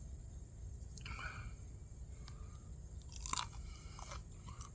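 A crunchy rainforest pepper is bitten and chewed outdoors, giving a few close, crisp crunches and wet chewing sounds over steady low background noise.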